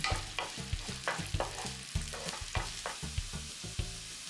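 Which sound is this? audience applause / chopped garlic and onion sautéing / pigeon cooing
chopped garlic and onion sautéing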